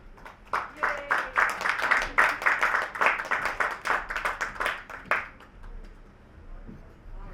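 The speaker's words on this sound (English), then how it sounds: "Let's give another round of applause for Wayne." Audience clapping after a keynote talk on agentic AI at Davos 2026, a lively burst of close, distinct handclaps for about five seconds before quickly fading out into room quiet.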